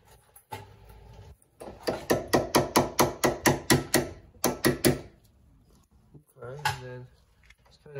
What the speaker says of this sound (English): So I usually try punching them out first,